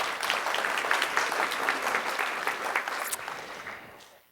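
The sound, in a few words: audience applause for a departing member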